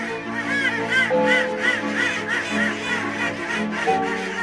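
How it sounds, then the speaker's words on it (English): Ducks on a duck farm in Kuttanad, Kerala, quack in a busy overlapping chorus of short nasal calls, close and fairly loud throughout. "lots of duck farms throughout the place."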